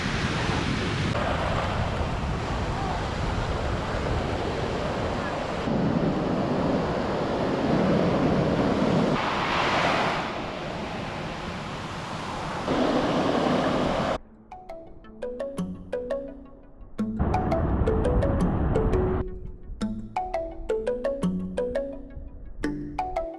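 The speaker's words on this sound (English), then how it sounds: "The beaches here were incredible." Ocean waves wash onto a sandy beach at Pfeiffer State Park in Big Sur, a broad, continuous roar of surf with wind rushing across the microphone, swelling and easing in long surges.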